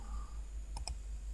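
Two quick, sharp mouse clicks close together, made while pressing keys on the Windows 10 virtual keyboard, over a steady low hum.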